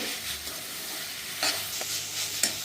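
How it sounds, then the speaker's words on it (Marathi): Matki (moth bean) curry sautéed and stirred in a pan, a steady close sizzle with a few sharper scraping clinks from the spoon, no voices. "एक दोन मिनटं ही अशीच परतवून घेऊ"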